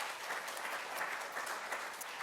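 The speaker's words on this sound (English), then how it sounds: "a round of applause to all of our champions of change who are here today" Audience applause for honorees at a disability rights anniversary event: a continuous, full crowd of hands clapping at an even, fairly loud level without pause.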